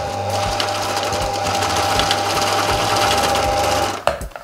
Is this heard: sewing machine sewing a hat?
yes